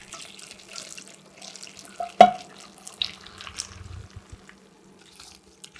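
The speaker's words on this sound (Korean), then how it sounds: "뜨거운 상태 그대로 푼마늘에 바로 부어주세요." Hot boiled pickling liquid is poured over green garlic in a container, a quiet scene with a sudden sharp splash midway followed by light trickles and small drips.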